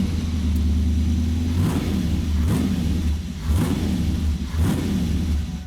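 Engine of a 1929 Ford Model A hot rod pickup idling with a deep loud rumble, punctuated by three or four sharp throttle blips that swell and fall back, close and alone.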